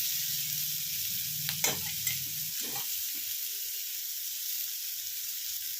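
Potatoes frying over high heat in a pan for a potato sandwich filling, stirred and tossed: a continuous loud hiss of sizzling oil broken by a few sharp scrapes and clinks of the stirring utensil.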